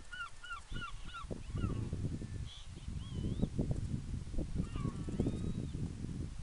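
Geese honk outdoors in coastal dunes, a burst of several calls early then scattered honks further off, over a constant rumble of wind and rustling.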